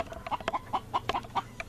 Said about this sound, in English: here comes a little rooster